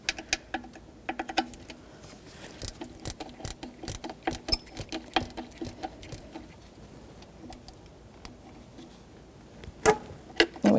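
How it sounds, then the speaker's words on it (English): A 10mm socket ratchet snugs a bolt on a 2014-2019 Toyota Corolla 1.8L four-cylinder, giving a close, rapid run of dry ratcheting clicks in uneven bursts, with a few louder knocks near the end. "I'm going to get my 10mm socket and ratchet, snug it up."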